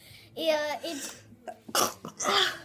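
A mother sneezes sharply, a single close burst, among a young daughter's chatter and babbling while the girl does her makeup at home.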